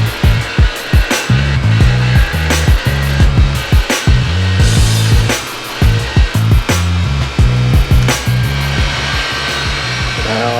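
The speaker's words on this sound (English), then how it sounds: "going over to the wire wheel, get some of the stubborn stuff off of here" A motorized wire wheel whirs steadily while a BMW E36 M3 engine part is pressed against it in repeated rhythmic bursts, producing a harsh, gritty buzzing scrape, loud and close.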